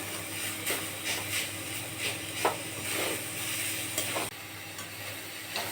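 Sweet potato mashed with jaggery in a pan is stirred and pressed with a spatula, producing rhythmic scraping strokes over a low sizzle, close and steady with a few sharper knocks.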